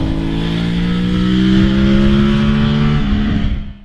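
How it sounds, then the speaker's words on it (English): A parallel-twin motorcycle engine rumbles loudly and steadily with a strong, deep low-pitched exhaust note, rising slightly in pitch before easing off near the end. "It's quite a deep exhaust note, sort of rumbles, a bit like a Moto 3 bike at low revs"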